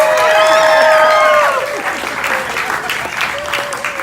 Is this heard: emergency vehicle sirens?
no